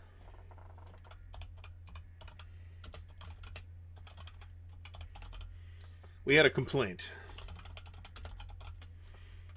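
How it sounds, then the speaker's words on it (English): Fast, light keystrokes on a computer keyboard patter steadily and quietly throughout, with a short burst of speech partway in over a low background hum. "So I'm typing it in, but I'm not going to hit the enter button until we have a number."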